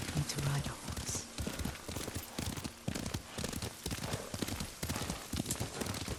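Steady clip-clop of horse hooves during riding in the video game Ghost of Tsushima, a continuous rhythmic trot heard under spoken dialogue.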